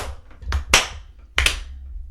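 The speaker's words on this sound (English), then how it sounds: "Slow clap for your dad." Two sharp hand claps spaced slowly apart, a deliberate slow clap in a quiet room, each clap loud and crisp with a short decay.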